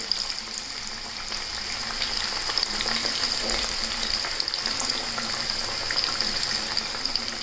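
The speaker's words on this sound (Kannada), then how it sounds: "ಚೆನ್ನಾಗಿ ಕಾದಂಥ ಎಣ್ಣೆಗೆ ನಾವು ಹಾಗಲಕಾಯಿಯನ್ನು ಹಾಕ್ಕೊಳ್ಳೋಣ." Slices of bitter gourd fry in hot oil in a pan, a steady, dense crackling sizzle that holds evenly throughout at close range, with no voices over it.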